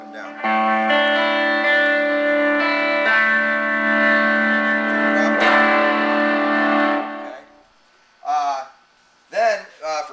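Electric guitar run through overdrive pedals, sustained distorted chords ringing loudly for several seconds, then fading out before short bursts of someone talking.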